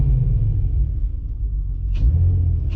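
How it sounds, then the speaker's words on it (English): A Nissan Skyline R32 engine idles with a deep, steady rumble, then takes a brief light rev near the end, heard up close from the front intake with no voices. "let's see what kind of intake sound we now have. Same as before, a couple light revs and some quick taps"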